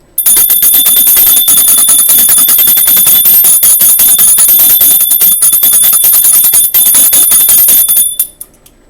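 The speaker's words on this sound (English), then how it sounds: "I'm going to be ringing this bell just to kind of clear the space" A small bell rings repeatedly in quick, bright dings, loud and close, with a sustained shimmering tone that fades out at the end, during a tarot card reading.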